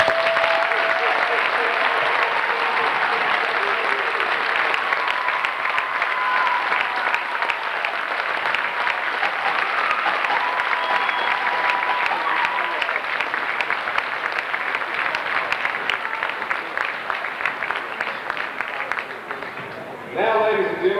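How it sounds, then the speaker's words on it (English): A gymnasium crowd at a jersey retirement ceremony for Kim and Richie breaks into sustained, loud applause with scattered cheers, a dense wash of clapping that holds steady for about twenty seconds before tapering off abruptly. "let's give one big round of applause for Kim and for Richie"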